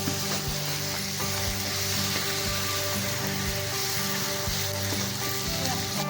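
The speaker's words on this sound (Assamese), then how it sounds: "এয়া তেল দিলোঁ, তেল গৰম হৈ গৈছে। পিঁয়াজ আৰু জলকীয়া অকণমান দি দিছোঁ।" Onion and chili crackle and sizzle in hot oil in a home kitchen, a constant, close, dense frying hiss with faint tonal hum behind it and no talking.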